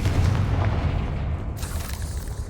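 Confringo fire spell explosions in the Hogwarts Legacy video game, a loud, dense booming burst with a deep rumbling low end that carries steadily through the whole moment, no talk over it.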